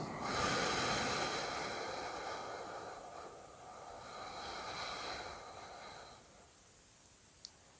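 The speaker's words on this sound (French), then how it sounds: "Et je souffle longuement" A long, slow breath let out through the mouth during a guided sophrology relaxation session, a steady airy rush lasting about six seconds that fades away, with no talking.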